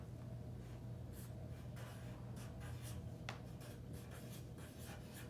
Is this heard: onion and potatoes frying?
no